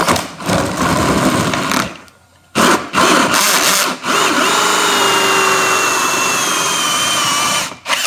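A power drill bores into the plastic body of a Husqvarna Automower robotic lawnmower, a loud sustained whine with the motor stopping briefly three times before running on steadily.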